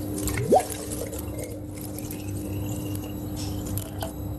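Young coconut water is poured into a blender already holding date jam and cinnamon, a short liquid splash and trickle over a steady background hum.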